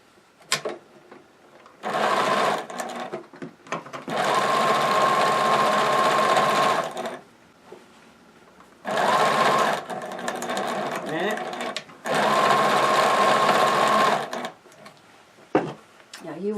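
Sewing machine stitching stocking fabric in bursts of steady, whirring running stitches, three or four separate runs of a few seconds each with short pauses between, close and fairly loud, no talking.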